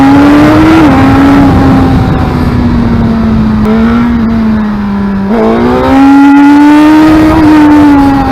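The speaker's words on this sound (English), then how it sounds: "Start the bike, let the oil circulate through the crankcase and the oil filter." A 2017 Suzuki GSX-R1000R sport bike engine runs close and loud after an oil change, holding a steady idle with a few blips of the throttle that raise and drop the pitch.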